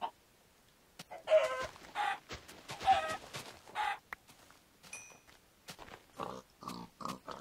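Chickens clucking and squawking in a video game, a run of loud, close, choppy clucks in uneven bursts with brief pauses between them.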